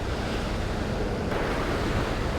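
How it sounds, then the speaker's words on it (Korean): Heavy ocean surf breaks continuously against rocks on the Sydney coast during rock fishing, a dense, loud roar with wind buffeting the microphone and no voices. "지금 이 슈엘의 폭이 점점 커지면서 파도가 점점 더 강해지고 있습니다"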